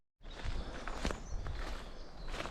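Footsteps crunch steadily along a forest walking path with small bridges, a soft continuous shuffle of feet on ground and leaves at close range, fairly quiet with no talking.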